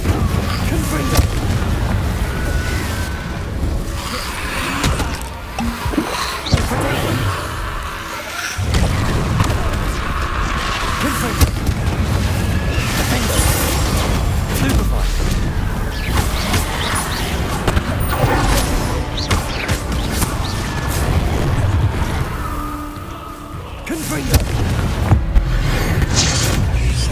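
Confringo blasting spells explode repeatedly during Hogwarts Legacy gameplay. Booming bursts and crashes come throughout, layered with the game's sound and with voices talking over them.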